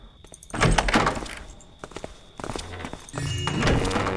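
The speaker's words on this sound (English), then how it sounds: "Wait for him to turn around, open the door again." A wooden door in Thief II: The Metal Age creaks and thunks open, with heavy footfalls and clunks around it, close and fairly loud, ending in a sustained scrape or rumble.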